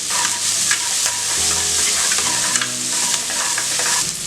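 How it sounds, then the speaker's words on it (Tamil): Chopped shallots sauté in a pan for drumstick sambar, a loud close sizzle broken by repeated scraping strokes of a spoon stirring against the pan. No speech is heard. "வெங்காயம் இந்த அளவுக்கு நல்லா வதக்கியாச்சு."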